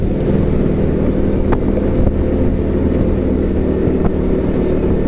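A motorcycle engine runs with a loud, steady drone and a whirring mechanical hum, continuous throughout with no clear rise or fall in pitch.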